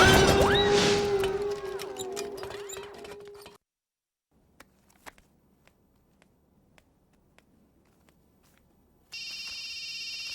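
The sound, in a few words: telephone ringing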